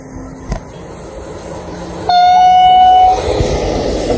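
A high-speed train sounds a single steady horn blast for about a second amid rumbling rail noise, after a short click.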